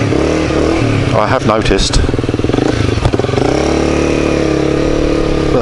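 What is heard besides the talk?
Honda CBR250R motorcycle engine running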